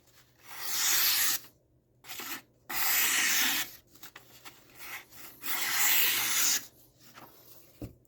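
A large modded Kizer Sheepdog XL knife slices through paper in three long, crisp, rasping strokes, close to the mic and separated by short pauses.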